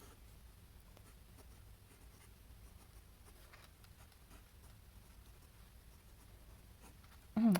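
A fountain pen with a 14K fine nib writes on Clever Fox premium planner paper, making faint, steady scratching strokes throughout, ending in a louder bump.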